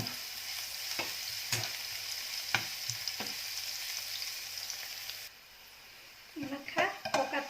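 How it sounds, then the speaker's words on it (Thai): Garlic sizzles steadily in oil in a pan with bits frying, punctuated by occasional scrapes of a utensil; the sizzle drops off near the end as stirring clatters. "ตั้งกระทะเดี๋ยวจะเจียวกระเทียมก่อนนะคะ"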